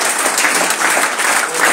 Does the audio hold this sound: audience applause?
yes